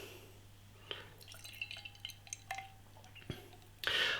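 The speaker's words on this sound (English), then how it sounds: "Should we get the beer out into a glass and see what we get?" Brooklyn Bel Air Sour beer, a sour ale brewed with lactobacillus, pours from a bottle into a glass, giving scattered drips, splashes and faint glassy clinks that end in a louder fizzing rush, heard close up with no talk.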